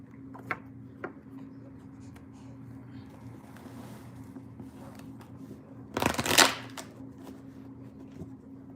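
Tarot cards riffled and shuffled close by, soft intermittent flicks building to one loud burst of rapid shuffling, over a low background hum.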